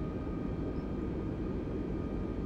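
Airbus A320 jet engines in Microsoft Flight Simulator 2020 as thrust is added on the ground: a steady, broad, moderately loud roar with low rumble and no voices.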